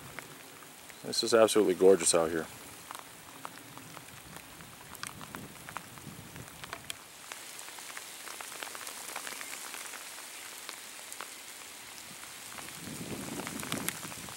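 Steady rain falls throughout a hike beside a reservoir, a soft continuous patter on the surroundings, with someone speaking briefly near the start.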